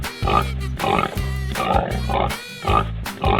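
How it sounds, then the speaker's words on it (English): Repeated grunting oinks from a pig in an animal video game come in quick, loud bursts close up, about eight snorts in a steady rhythm with no talking. "Pig."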